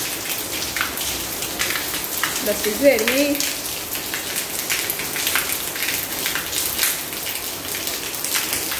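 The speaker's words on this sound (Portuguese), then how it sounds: "vocês estão escutando o barulho aí? Pois é, mulher, tá chovendo." Summer rain patters steadily outside a new house during a move, a soft continuous hiss throughout with a voice speaking briefly over it.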